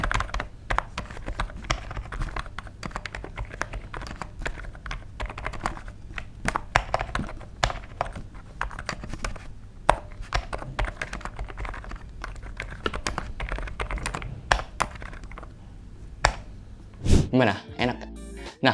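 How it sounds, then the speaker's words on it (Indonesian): Typing on a Cidoo ABM066 mechanical keyboard: rapid, irregular clacking keystrokes close up, continuous for most of the clip, ending with a few heavier clatters. "kalian bisa dengar suaranya sebagai berikut"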